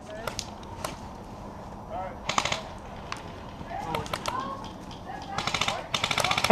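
Airsoft guns firing during an outdoor skirmish game, with rapid bursts of sharp cracks and single shots, some near and some distant, under players calling out to each other.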